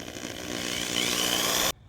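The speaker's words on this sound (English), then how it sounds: "now we're going to be drilling this to the main body," A power drill bores into a giant DIY pumpkin prop to fix a piece to its main branch, whining loud and close in one sustained run that builds slightly, then cuts off abruptly near the end.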